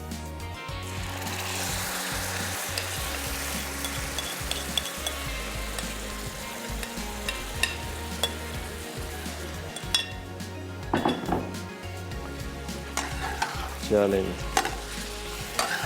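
Liver (kaleji) frying on a tawa over high flame gives a continuous loud sizzle, with scattered metal scrapes and clinks from a utensil and a short spoken word near the start.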